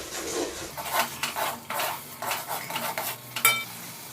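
Green chilies are stirred and fried in a pan: repeated scraping and clinking strokes of a spoon against metal come in a loose rhythm over a soft, low sizzle, with one sharper knock near the end.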